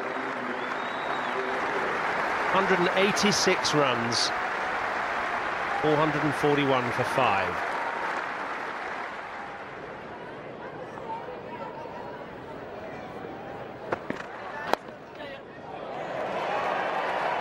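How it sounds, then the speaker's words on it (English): Applause from a cricket crowd at an England vs Pakistan Test match swells and holds steady, then fades, under a commentator's voice. "Listen to the applause."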